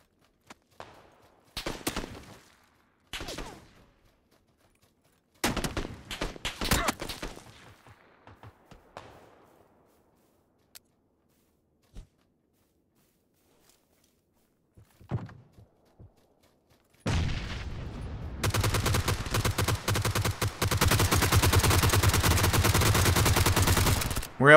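Gunfire in PUBG on the snowy Vikendi map: scattered single shots and short bursts crack out at intervals, then a long dense stretch of sustained rapid fire fills the final seconds, loud and close.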